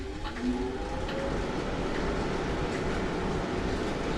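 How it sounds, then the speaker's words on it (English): An electric blower fan runs indoors beside a stationary bike during an indoor cycling ride, giving a loud, continuous broadband whoosh with no breaks or change in level. "so I'm going to put the blower on"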